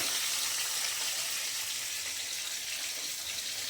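Pieces of boal fish fry in a pan, a soft steady sizzle with a faint, even hiss and no talking.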